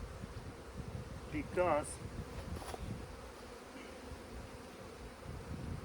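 Honeybees being shaken off frames into an intermediate box while making an artificial swarm, a steady outdoor buzz of many insects with a brief louder flurry, light wind, and a short spoken word over it.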